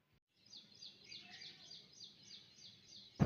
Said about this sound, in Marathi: तर आजची सुरुवात चालू झालेली आहे आपल्या सकाळची पक्ष्यांच्या किलबिलाटाने